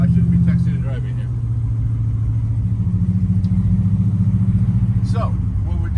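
A 1957 Chevy Bel Air with a 632 engine being driven, its deep rumbling drone steady and loud close by, with a voice briefly over it near the start and end.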